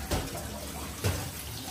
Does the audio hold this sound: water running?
yes